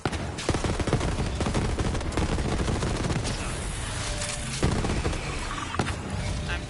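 Gunfire in the video game Borderlands 3, dense rapid bursts of shots with no breaks, loud and close throughout.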